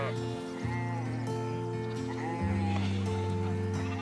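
A flock of sheep on a hill farm bleats loudly and continuously at close range, with overlapping wavering calls piling on top of each other for the whole stretch.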